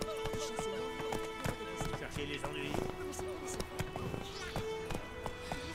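Rhythmic clip-clop of horse hooves galloping in The Witcher 3: Wild Hunt, with music and sound effects, and someone talking over it in French.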